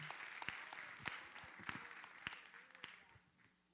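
A church congregation at an evening Lord's Supper service claps along in a faint, steady rhythm, distinct claps landing about twice a second, fading slightly toward the end.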